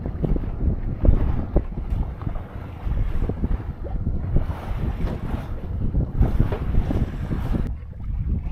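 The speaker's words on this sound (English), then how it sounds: "We're on a jolly little downwind course on the way back. It's a good little sail today." A sailboat runs downwind on open water, with steady rushing wind and water noise, lapping waves and creaks close to the microphone.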